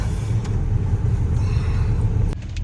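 A car drives along with a steady, loud low rumble of engine and road noise close inside the cabin, and a short knock near the end as the sound drops slightly.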